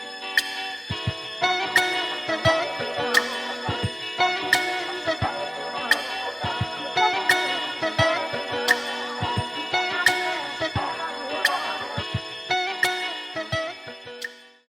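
A looping music sample with flanger and chorus effects giving a swirling, sweeping shimmer over steady clicking beats, playing continuously and fairly loud before cutting off.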